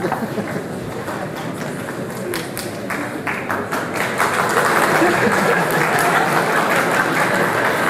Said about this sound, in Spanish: Voy a suponer que la aplauso era por haber finalizado el punto anterior.